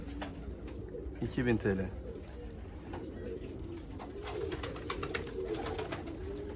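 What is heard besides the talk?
pigeons cooing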